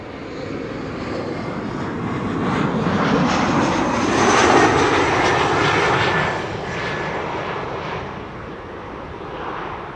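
A KLM Embraer 175 jet lands at Amsterdam Schiphol Airport, its engine roar a broad, steady rush that swells to a peak mid-way and then eases off while staying loud and sustained, with no voices.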